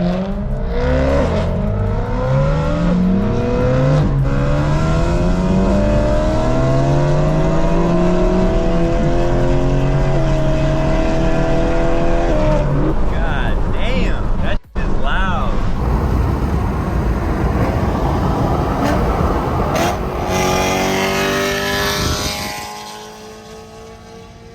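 A BMW E92 M3 engine revs hard and accelerates up through several gears in rising sweeps, very loud and close. There is a sharp break midway, then a rough roar that fades out at the end.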